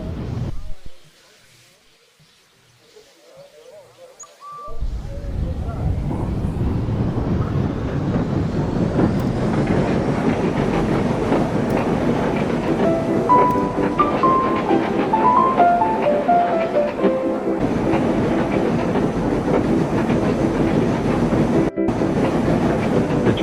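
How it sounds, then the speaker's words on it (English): Two engines haul a long, heavy train along a railway line: after a brief quiet start, a loud, steady rumble of rolling wagons with clickety-clack rhythm carries on to the end, with a few faint squeals mid-way. "train was heavy, but the two engines never gave up. They continued on and made it to the station."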